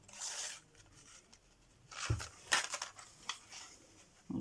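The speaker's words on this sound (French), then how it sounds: "Donc, voilà cette perforatrice." A craft paper punch cuts through white paper, giving a few short, sharp crunching snaps near the mic, with light rustling in between, and no voices.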